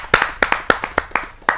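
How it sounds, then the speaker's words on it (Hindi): Hand claps at a Hindi poetry gathering (kavi sammelan), about eight sharp, fairly loud claps in a loose, uneven rhythm with short gaps, more like a few hands than a full crowd. "आइए आप सबकी जोरदार तालियों से"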